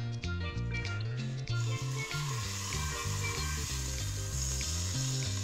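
A thick muffin-like bun toasts in a hot pan, giving a steady sizzling hiss that runs under loud, continuous background music.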